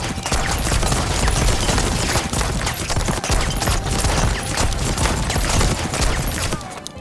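Blunderbombs and firebombs thrown over and over in Sea of Thieves, a loud, rapid barrage of bursts and pops stacked into a near-continuous crackling volley that thins out at the very end.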